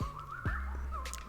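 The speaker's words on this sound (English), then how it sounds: "I really like the detuned little whistles that they had." A short, wavering, detuned whistled tone in a pop song slides up and down over a steady musical backdrop, sounding slightly out of tune.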